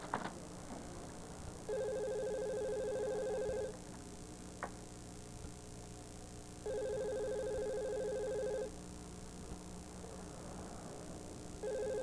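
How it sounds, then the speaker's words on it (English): A telephone rings in a radio drama, sounding as two-second bursts of electronic trilling separated by pauses of about three seconds, repeated three times against a quiet room background, with no talking during the rings. "It's your phone"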